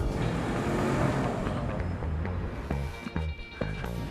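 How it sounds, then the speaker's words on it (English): A Nissan Altima with a VC turbo engine drives with a steady engine hum and road noise, loud and continuous, with a few brief thumps near the end and no speech. "Ultima's fuel efficient VC turbo engine hustles like an MVP."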